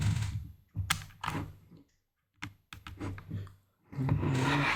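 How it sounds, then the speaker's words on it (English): Typing on a laptop keyboard, bursts of quick clicking keystrokes broken by short pauses, close and fairly loud, with no talking. "I'm gonna use my keyboard from my laptop in the meantime"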